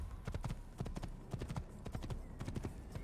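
Horse hooves clip-clop in a quick, steady trot in the video game Assassin's Creed, a crisp repeating pattern heard at moderate volume under quiet game ambience.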